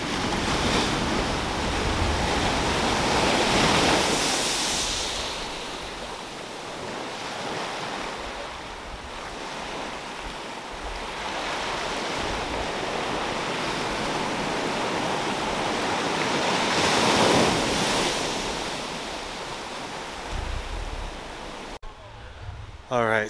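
Waves wash onto a small secluded beach in the Seychelles, a continuous roar of surf that swells and recedes, with wind buffeting the microphone.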